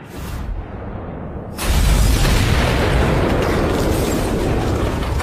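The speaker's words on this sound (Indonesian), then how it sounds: "El Diablo lalu melepaskan tembakan dan menghancurkan mobil." A gunshot and a car exploding: a sudden heavy boom sets off a loud, sustained roaring rumble, like a blast followed by debris and fire, dense and close with no voices.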